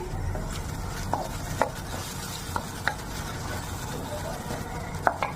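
Spice masala with turmeric and a little water being stirred and fried in a pan, a low steady sizzle with scattered scraping clicks of a spoon against the pan.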